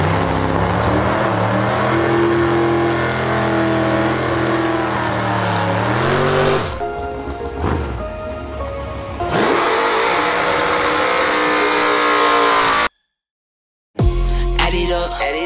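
Drag racing cars roar past in a loud, sustained blast at an organized drag strip, engine pitch sweeping as they accelerate down the track, followed by harsh broadband bursts, a brief cutout, then more engine noise near the end.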